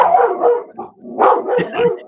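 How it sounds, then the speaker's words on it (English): A dog barking several times in quick bursts, loud and close, with short yips between the barks. "your dog's reacting"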